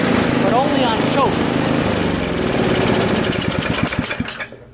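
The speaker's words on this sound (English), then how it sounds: "It only runs on choke, so just needs a carb clean." Toro 21-inch dual-stage snow blower with a 5 HP Tecumseh engine, running only on choke and needing a carburetor clean: a steady, loud, close mechanical drone with some chuffing, fading out near the end, with voices audible over it.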